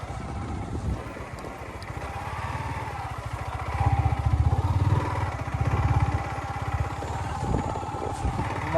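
A motorcycle carrying two riders drones along with a steady, rough engine rumble that swells and eases slightly as it moves, close and continuous, with no voices.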